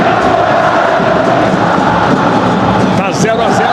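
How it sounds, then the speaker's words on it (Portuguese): Botafogo football fans chant at Maracanã stadium during a match against Flamengo, a dense, loud crowd roar that stays steady throughout with a voice talking over it. "Nesse momento quem grita é a torcida do Botafogo"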